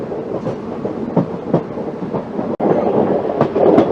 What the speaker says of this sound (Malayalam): ഇപ്പോഴീ ട്രെയിന് ഒരു ചെറിയ നല്ലൊരു കയറ്റാണ് കേട്ടോ. ആ കയറ്റാണ് ഇപ്പോൾ കയറുന്നത് കേട്ടോ.